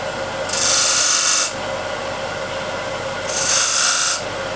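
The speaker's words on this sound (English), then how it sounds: "I'll use spear point scraper. to make a little decorations." A spear point scraper cuts decorations into wood spinning on a lathe, with two loud bright scraping bursts over the steady hum of the running machine.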